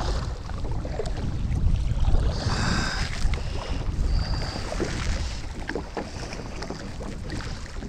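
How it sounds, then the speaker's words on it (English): Choppy water slaps and splashes around a small boat, with steady wind rumble and close, continuous sloshing and a few brief higher swishes, and nobody speaking. "it's really getting choppy out here right now"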